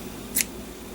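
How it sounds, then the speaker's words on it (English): Scissors make one brief, crisp snip through card paper while crafting a sweet-themed greeting card, set against a quiet room hum. "I'll just trim this"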